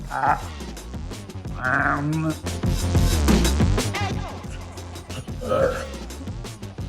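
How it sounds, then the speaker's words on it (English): A short burp sounds among people chatting and laughing nearby, with another brief guttural croak later on. "Don't be burping."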